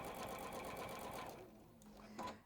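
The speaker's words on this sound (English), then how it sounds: "So I'm just quilting, just doing the wavy lines" A sewing machine stitches wavy quilting lines in a steady, fast mechanical whir that runs strongly at first, then quietens and thins out, with a brief louder burst near the end.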